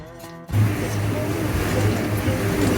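Water splashes and rushes loudly and continuously against the hull of a boat cruising Narragansett Bay off Portsmouth, Rhode Island, starting abruptly after a brief quieter moment, with engine drone underneath.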